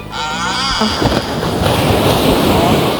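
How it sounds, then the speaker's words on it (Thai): Ocean waves breaking on a sloping beach at Bang Saphan in strong wind, a steady loud wash of surf and wind noise across the whole stretch, with a voice briefly heard near the start. "โอ้คลื่นคลื่นคลื่นคลื่น"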